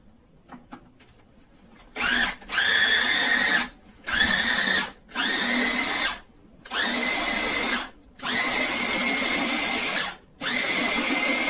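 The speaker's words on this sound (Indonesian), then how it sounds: "bawang merahnya juga aku blender" A blender whirs in repeated loud pulses of a few seconds each, stopping briefly between bursts, close up, blending tofu and shallots.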